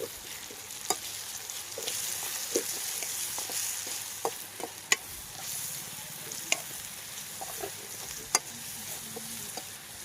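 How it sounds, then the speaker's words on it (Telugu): Egg curry ingredients with turmeric, chili powder and coriander powder being stirred in a frying pan, a steady sizzle broken by repeated sharp spoon scrapes and taps against the pan, no talk. "మొత్తం వేసేసుకొని బాగా కలబెట్టేసుకుందాం"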